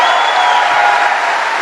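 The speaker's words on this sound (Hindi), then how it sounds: "मैं चाहूंगी इससे ज्यादा जोर से ताली बजा सकते हैं आप मेरे मेंटर के लिए" An audience at a business gathering applauds loudly and continuously, a dense wash of clapping filling the whole moment with no pauses.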